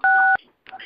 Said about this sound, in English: I need a lot of people to press star 6 right now